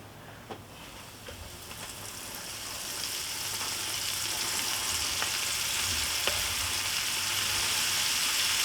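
Steady, hissing sizzle of food frying in hot oil, with scattered pops and crackles, growing slightly louder and denser over time.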